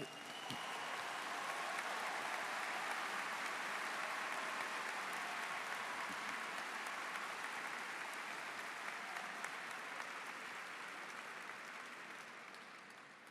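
Prolonged applause for the graduating Southwest High School Class of 2021, a broad, steady round of clapping from a large audience, somewhat distant and sustained for over ten seconds before tapering.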